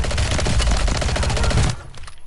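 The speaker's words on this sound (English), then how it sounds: "He's shooting at me." Rapid video game gunfire rattles in a dense, loud burst of automatic shots close up, with no talk, then cuts off sharply into a brief quieter tail.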